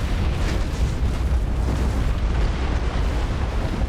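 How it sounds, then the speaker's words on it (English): Mega cannons fire in the space battle game Battlefleet Gothic: Armada 2, producing a sustained, loud, booming rumble of overlapping blasts with no talking. "I'm doing a lot of damage right now with these mega cannons alone."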